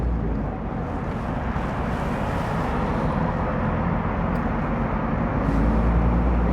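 A 20-year-old car engine runs quiet and smooth, giving a steady, even, low hum throughout with no knocks or talking.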